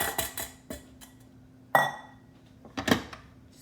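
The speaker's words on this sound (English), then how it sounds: "From this point, we're just gonna stir everything in." Utensil strikes a bowl while flour and salt are stirred into peanut butter blondie batter: a few sharp clinks and knocks spaced irregularly, one louder ringing tap in the middle, with quiet scraping between them.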